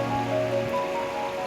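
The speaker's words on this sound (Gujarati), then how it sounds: "જો એ વરસાદ ચાલુ જ" Heavy rain in a village after a downpour of about ten inches in four hours, a loud continuous rushing wash of water with no voices.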